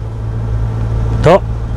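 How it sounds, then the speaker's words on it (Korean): A car engine hums steadily at low pitch during a driving lesson, then briefly revs upward in a short rising whine near the end as the driver accelerates. "속도 올립시다 앞에 좀 잘 가니까 좀 더 밟읍시다"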